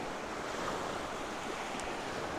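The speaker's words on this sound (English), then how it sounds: "as the waves come in they swirl around it a little bit more" Ocean surf at Cable Bay, Anglesey, washes in and swirls around a rock, a steady broadband wash of breaking water with some wind noise, continuous and moderately distant with no voices.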